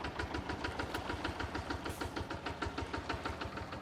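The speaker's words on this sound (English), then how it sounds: "Turn the engine off because I think we're going to end that there anyway." Tractor engine in the Farming Simulator 22 game, running with a steady rapid diesel chug and knocking pulse, close and even, with no talk over it.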